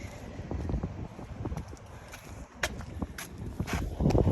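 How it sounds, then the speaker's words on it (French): Strong wind buffeting a microphone outdoors, a continuous low rumbling roar with gusts and scattered knocks that swells louder toward the end. "il y a beaucoup de vent, je sais pas si vous m'entendez"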